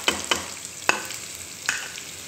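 Onions fry in a pan with egg and tomatoes, a close, steady sizzle broken by a few sharp stirring scrapes, with no voices.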